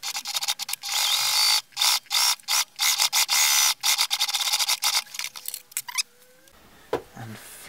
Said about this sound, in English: I'm now going to stitch along the top edge